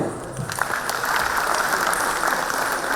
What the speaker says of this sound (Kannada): ಈಗ ಎರಡೂ ಕೈ ಮೇಲೆತ್ತಿ ಚಪ್ಪಾಳೆ